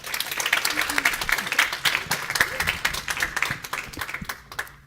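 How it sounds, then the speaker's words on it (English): Audience applause after a talk at a security conference, a dense burst of clapping that swells early and then gradually thins out toward the end. "Let's give a round of applause."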